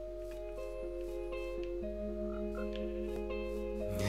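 Frog croaking in Minecraft Bedrock Edition, a few short croaks heard over steady game music and ambient tones.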